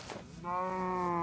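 A cow in a video game gives one drawn-out, nasal moo, close and steady, after a short scuffle of movement.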